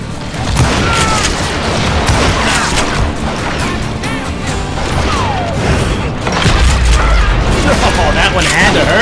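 Shotgun blasts in a Wild West video game, loud booming shots and crashes layered over continuous action noise and music, with someone talking over the gunfire.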